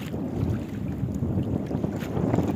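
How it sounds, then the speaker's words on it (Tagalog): Strong wind at sea aboard a small fishing boat: continuous loud, low buffeting rumble of wind hitting the microphone, with the boat and water churning underneath throughout. "malakas pa rin ang hangin hanggang ngayon"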